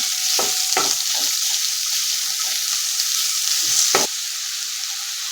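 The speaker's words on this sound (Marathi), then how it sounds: "कांदाही आपल्याला चांगला परतून घ्यायचा आहे चांगला गोल्डन गोल्डन ब्राऊन होईपर्यंत परतायचा आहे" Chopped onion sautéing in a pan gives a continuous even sizzle, close and moderately loud, punctuated by a few spoon or spatula strokes, with no voices.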